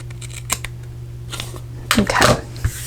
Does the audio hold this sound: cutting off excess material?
yes